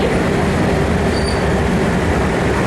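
An Amtrak passenger train on the Northeast Corridor line gives a steady, loud rumble and rolling noise that fills the clip, constant throughout with no breaks.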